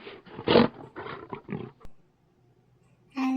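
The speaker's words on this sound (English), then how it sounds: "lion," A lion roars in a short series of loud, rough bursts that fade into near silence, followed by a brief sustained tone at the end.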